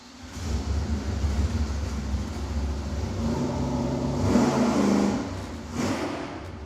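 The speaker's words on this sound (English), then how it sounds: "Now we've got the lightweight components on the engine, and we're gonna go for the base 300 RPM per second pull" Car engine fitted with lightweight rotating components runs a 300 RPM-per-second pull on a dyno, a steady loud drone that climbs in intensity toward a peak near the end, with no talking.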